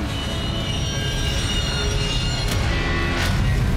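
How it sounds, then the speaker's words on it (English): A train rolls in within the video game Black Mesa Blue Shift, a steady loud rumble of rail noise with faint squeals throughout. "All right, here comes the train."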